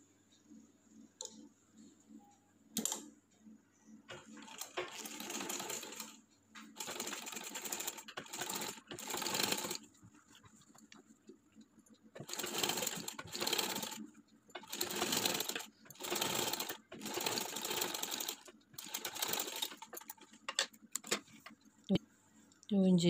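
A sewing machine stitching piping onto a kids' summer top, running in repeated short bursts separated by pauses, close and clear, with someone speaking between runs.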